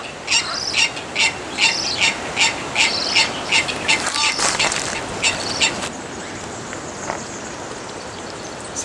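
Birds squawk repeatedly in a swamp aviary in the Adelaide Hills, loud rhythmic harsh calls over a constant wash of hissing water or rain-like noise.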